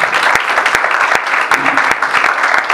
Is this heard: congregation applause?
yes